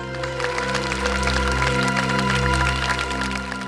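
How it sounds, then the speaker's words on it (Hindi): Studio audience claps continuously through the whole stretch for a favourite star's arrival on a CID television show set, dense and steady over a sustained music bed, with no talking. "तालियां!"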